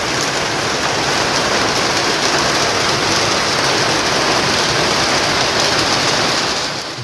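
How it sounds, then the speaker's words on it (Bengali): Heavy rain pours down around a tin-roofed house, a dense, loud, unbroken hiss that holds steady throughout and eases slightly only at the very end. "আজকে আবারও বৃষ্টি, কিন্তু বৃষ্টিতে এত সুন্দর লাগে দেখতে চারপাশটা।"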